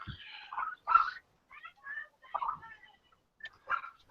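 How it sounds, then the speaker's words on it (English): A tiny dog being puppy-sat yaps in the background, several faint, scattered high-pitched barks and whimpers separated by quiet gaps. "excuse the barking in the background"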